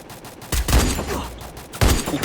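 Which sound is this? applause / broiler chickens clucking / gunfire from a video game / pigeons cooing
gunfire from a video game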